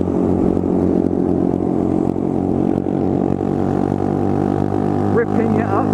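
A motorcycle with an aftermarket Zoom exhaust roars loud and close while being ridden, holding a steady, harsh engine drone with slight pitch shifts. Another engine may be running with it, and brief voices break in near the end.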